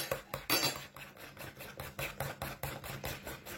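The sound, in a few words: spoon stirring rice mask mixture with milk powder in bowl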